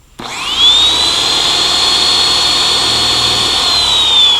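A power tool spins up to a loud, steady high whine that holds for several seconds, a clogged car polishing wheel being cleaned off close by.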